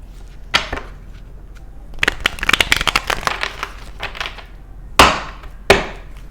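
Oracle cards are shuffled by hand in short bursts of crisp riffling and slapping, with sharper taps as the deck is squared, close and clear with no talking.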